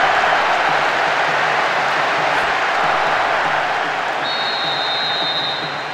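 A stadium crowd in the football video game PES6 roars after a goal, a dense, steady wash of cheering and noise that fades slightly toward the end.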